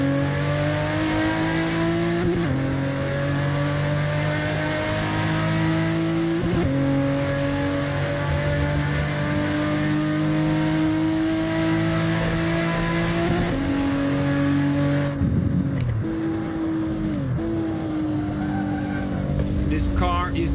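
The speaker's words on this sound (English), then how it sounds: "Driving that iconic Supra right here that Paul Walker drove in the Fast and the Furious" A Toyota Supra's engine in the Assetto Corsa racing game holds a loud, steady drone through the gears, its pitch dropping sharply at several upshifts, with tire squeal near the end and a voice talking over it.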